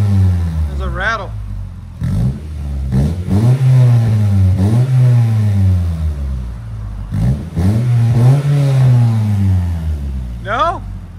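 Loud, close blips of throttle from a 1997 Honda Prelude 2.2L with headers and Skunk2 Mega Power cat-back exhaust, rising and falling revs in quick succession, with a couple of short high-pitched rev spikes at the start and end.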